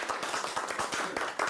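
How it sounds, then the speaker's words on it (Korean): Joyful clapping and applause from a small studio audience on a Korean TV talk show, a short burst of steady claps with a few brighter accents, moderately close. "기쁨의 박수 한번 치겠습니다."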